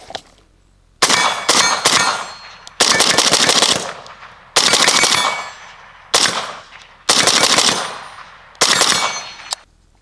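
An AK rifle fitted with an Ultimak railed gas tube fires repeated rounds outdoors: loud, sharp cracks in quick strings of shots separated by short pauses, each burst ringing with metallic echo.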